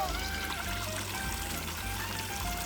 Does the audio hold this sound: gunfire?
no